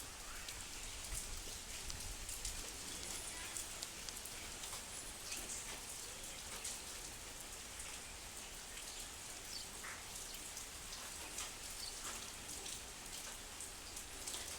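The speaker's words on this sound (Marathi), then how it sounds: "पावसाचं सुंदर असं निसर्गरम्य वातावरण मंदिराच्या आजूबाजूला आहे" Rain falls steadily around a temple, a continuous hiss with scattered drop patters. Faint bird calls come through now and then. The sound is quiet and unbroken, with no talking.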